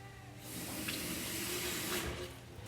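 Water runs from a sink tap while grout is rinsed out, a steady close hiss-like stream starting after a short pause, with a couple of faint splashes and no speech.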